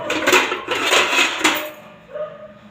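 A spoon scrapes and clatters around a metal pot of salted chicken gravy, loud and close in steady strokes for over a second, then a softer pause and one last clink.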